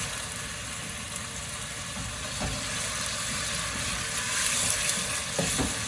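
Onions frying in a thin coat of vegetable oil with a little salt in a pan, a steady close broadband sizzle running the whole time with a few small crackles and no talk.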